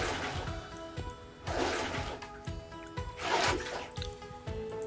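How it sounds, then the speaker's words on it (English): Water is poured into a mortar mix in the Builder Simulator video game, giving a rushing, splashing flow that swells in repeated bursts over a steady background. "We need water first. Let's put some water."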